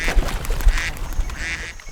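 Wild ducks quack in a flock as a sound effect, three clustered bursts of nasal calls spaced about half a second apart, fairly close and clear over a faint background.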